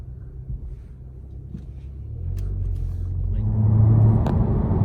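A Volkswagen/Audi car running a RaceROM tune in map 2 drives along, its low engine rumble gradually swelling as it accelerates, heard from inside at moderate level.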